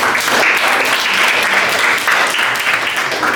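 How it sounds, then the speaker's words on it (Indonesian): A classroom crowd claps steadily and loudly for a few seconds, a dense continuous patter of many hands. "kita beri tepuk tangan buat Junior."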